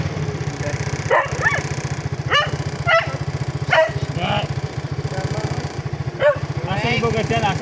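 A dog barks several times in short bursts over the steady rumble of a nearby engine, with people talking in between.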